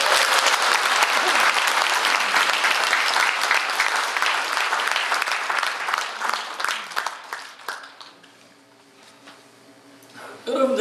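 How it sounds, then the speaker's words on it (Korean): Dense, enthusiastic clapping from a seminar audience in a hall, sustained for several seconds before tapering into scattered claps and quiet, with a voice resuming at the end. "이 시점에는 박수를 한번 쳐야 돼요."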